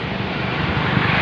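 Tractor engine running at a village fair where salt is being sold, a loud continuous low rumble with broad noisy drone, close by and steady for the brief moment.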